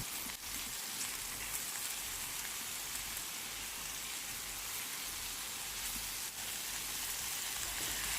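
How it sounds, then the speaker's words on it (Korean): Garlic and then onion sizzle in cooking oil, a steady, dense crackling hiss that stays even and fairly close throughout, with no voices. "마늘을 그 기름에 살짝 볶다가 옆으로 두시고 양파를 올리세요."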